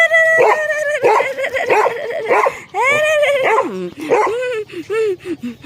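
A large dog barks close by in a string of short yips and whimpering, howl-like cries with uneven pauses between them, with no talking.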